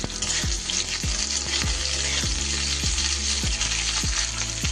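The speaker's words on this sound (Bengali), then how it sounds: "এবার আমি কুমড়োর টুকরোগুলো দিয়ে দিচ্ছি" Pumpkin pieces frying in a pan with sprouted mung beans and oats, a steady loud sizzle with rhythmic stirring scrapes repeating about every half second, no voices.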